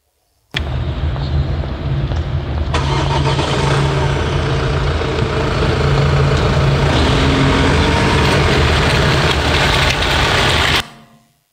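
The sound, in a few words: combustion-engine car reversing slowly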